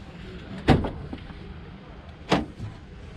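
A rear storage hatch on a three-berth Kea Nomad motorhome made in New Zealand is opened, giving a sharp latch clack followed by a second louder thud a moment later, close by with quiet room noise.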